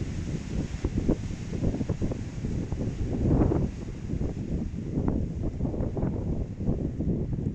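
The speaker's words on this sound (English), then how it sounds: "It's a little too windy today." Strong wind buffets a winter beach, a constant low roaring rush with gusty swells that swell around the middle, close and loud with no voices.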